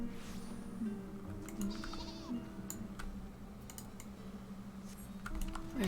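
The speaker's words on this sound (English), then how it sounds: "I heard a sheep fly by." A sheep bleats in a video game as it flies past, a couple of short bleats mixed with steady computer keyboard typing and soft game background sounds.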